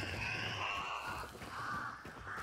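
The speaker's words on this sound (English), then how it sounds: "Fuck it, I'll set off the birds." Crows caw harshly and repeatedly after being startled in the Hunt: Showdown video game, in a continuous overlapping chorus that stays fairly loud across the whole stretch.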